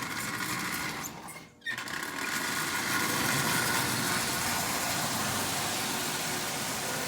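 A Marx 10005 toy train runs around its track, a steady close mechanical whir and rail rumble with a brief dip near the start, then continuing evenly.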